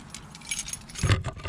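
Car keys jangling up close in a short metallic burst of rattling, louder toward the end, with no talk over it.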